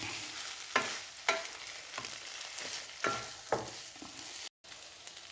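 Chicken noodles stirred in a hot pan, a soft continuous sizzle punctuated by several sharp spatula scrapes and taps at irregular intervals, close and fairly quiet, with no speech.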